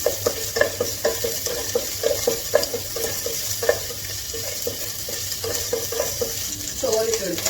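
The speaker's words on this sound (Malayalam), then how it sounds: "നമ്മൾ കടല, അതുപോലെ തന്നെ ചുവന്നമുളക് നന്നായിട്ട് വഴറ്റുക" Chickpeas, red chili, ginger and green chili sizzle steadily in a hot pan, with a spoon scraping and stirring in a loose rhythm throughout and brief voices in the background.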